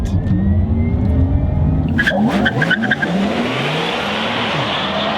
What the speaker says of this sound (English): This is a Tesla Model 3 Performance with the Unplugged Performance package on it.